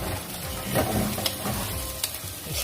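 Rice is stir-fried in a pan for abalone porridge, heard up close as a steady hiss of sizzling with scraping stirring strokes and occasional sharp utensil ticks.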